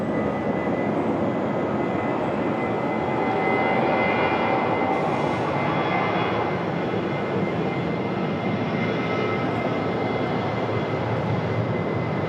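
A Southwest jet airliner departs Raleigh-Durham International, a loud sustained engine roar holding steady with a rising whine and faint distant rumble, no talking over it.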